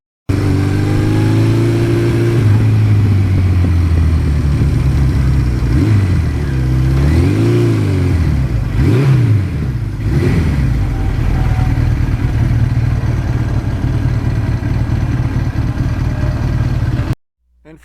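A stock 1982 Suzuki GS1100E motorcycle with over 80,000 miles runs steadily at idle, with a few throttle blips in the middle, close and loud, before cutting off abruptly at the end.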